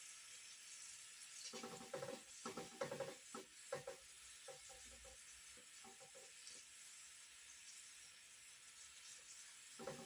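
Onde-onde sesame balls deep-frying in hot oil give a steady close sizzle, with a cluster of sharper crackling bursts early on as they are turned, then an even hiss.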